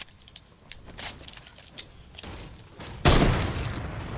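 Gunfire in a PS5 video game, with a couple of short sharp bursts early on and then a loud blast that trails off in a long rumbling decay, heard with no talk.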